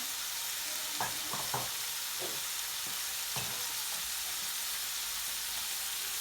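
A chicken Ceylon curry cooks in a pan with a steady, moderate sizzle and frying hiss, broken by a few soft stirring scrapes and clinks; no one speaks.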